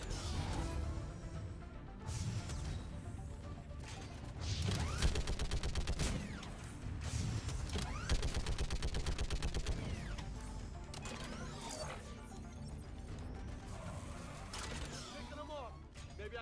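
Sustained turret fire in the Mass Effect game, heard as dense, continuous rattling bursts with mechanical whirring and impact crashes, steady and loud throughout, with occasional speech mixed in.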